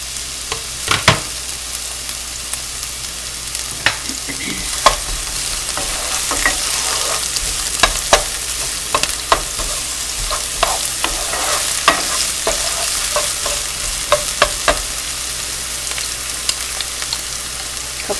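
Diced red onion fries in hot canola oil for chicken pad thai, giving a continuous loud crackling sizzle with scattered pops and occasional utensil taps, close up and without speech.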